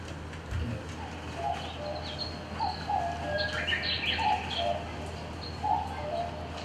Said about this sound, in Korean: 새소리가 들리십니까?